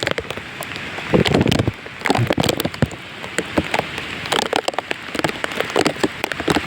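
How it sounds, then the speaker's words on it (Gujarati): Heavy monsoon rain pours down without letup after days of constant falling, a dense, loud roar of drops hammering surfaces with bursts of louder splattering throughout. "આ રૌદ્ર સ્વરૂપ કહેવાય વરસાદનું"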